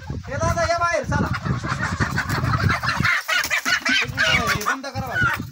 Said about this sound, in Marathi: भरपूर मोठा कोंबडा आहे वजनदार गावरानमध्ये